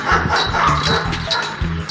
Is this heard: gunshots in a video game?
no